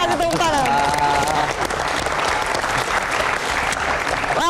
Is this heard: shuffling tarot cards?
no